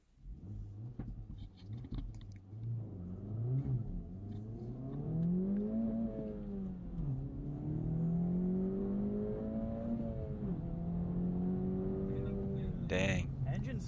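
A car engine revs up and accelerates, its pitch climbing through several gear shifts, steady and fairly close, with some cabin rumble underneath.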